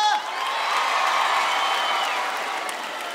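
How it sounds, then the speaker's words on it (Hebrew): A large concert crowd in Caesarea applauds and cheers loudly and continuously, a dense wash of clapping and whoops sustained at steady volume throughout. "ותעשו לו הרבה הרבה כפיים, תעשו הרבה הרבה כבוד"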